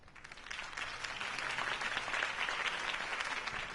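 A crowd at a political campaign rally gives steady, dense applause that fills the whole stretch. It sounds somewhat distant, and no voices rise above it.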